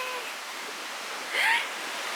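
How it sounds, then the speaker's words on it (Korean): A waterfall below a bridge in snowy Sapporo in January gives a steady, broad rush of falling water, with a brief voice rising over it. "이 다리 밑에 폭포가 있나 봐."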